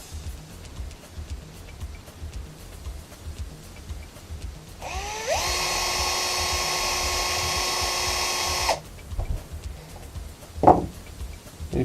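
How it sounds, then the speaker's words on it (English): A small high-pitched power drill whines steadily for a few seconds while boring holes for homemade footwell and glove box light bulbs, with quieter handling noise before and after. "If you drill the two holes, you will plug the wire through"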